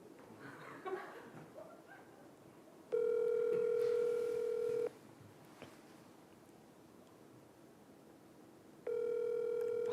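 A phone ringback tone sounds while a mobile call is connecting: two long, steady electronic tones a few seconds apart, clear and moderately loud over quiet room noise, with faint movement before the first tone.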